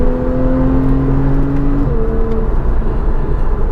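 A Porsche 911 991 Targa 4S in Sport mode revs loudly and steadily from inside the car, with the engine tone holding level and then shifting pitch as a gear change comes through. No voices are heard.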